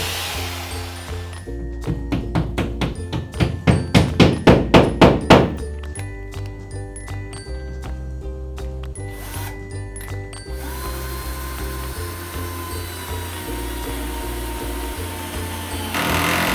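A screwdriver driving a fixing anchor into plasterboard, a rapid run of ratcheting clicks that grows louder, then a steady motor whir that ends abruptly, heard close by.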